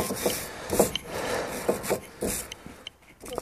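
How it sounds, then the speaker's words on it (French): A wire brush scrubs inside a brake caliper in short, rough back-and-forth rasping strokes, repeated irregularly and fairly close. "tu fais un coup de brosse métallique là-dedans, là"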